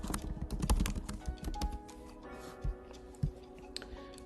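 Keys on a computer keyboard tapped in short irregular bursts while a website file name is entered, with scattered clicks that thin out into a few isolated taps, close and fairly quiet.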